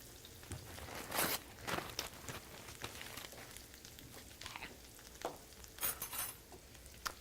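Eggs beaten with salt and pepper are whisked in a bowl for an omelet, giving soft, scratchy stirring strokes with a few louder clinking bursts, close by and alone, without talk.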